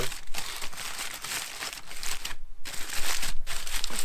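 Aluminium foil is crinkled and shaped into a bowl at a solo campsite, a loud continuous close-up crackling rustle with a couple of brief pauses.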